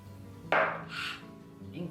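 Caudalie facial mist sprayed onto a face during makeup: one short hissing spray burst, close and clear, with faint handling noise after.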